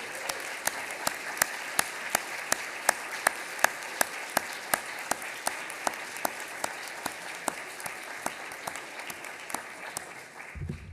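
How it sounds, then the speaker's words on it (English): An audience at a court manager graduation ceremony applauds the new graduates, a steady wash of clapping with regular sharp, prominent claps from one nearby pair of hands, running about ten seconds before it stops abruptly. "Could we get a round of applause for our brand new graduates?"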